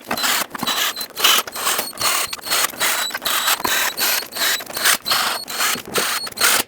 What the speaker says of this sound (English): Now I'm going to go around by hand and apply even pressure to all of them in a cross pattern so everything can seat properly, just using a small 1/4-inch ratchet.